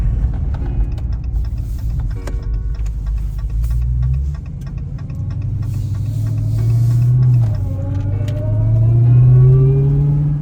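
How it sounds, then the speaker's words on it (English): A supercharged Dodge Magnum Hellcat engine pulls hard under acceleration, a deep loud roar with a rising supercharger whine that climbs through the gears and builds toward the end, no voices. "Yeah, that supercharger's loud as hell."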